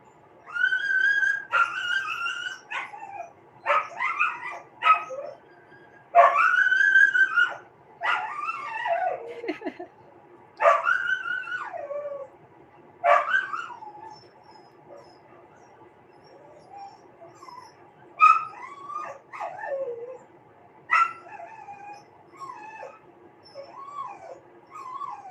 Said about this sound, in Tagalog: Maingay yung aso ng kapitbahay.